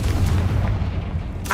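A Confringo fire spell explodes in the Hogwarts Legacy video game, a dense, loud low-end blast that rumbles through the whole short moment.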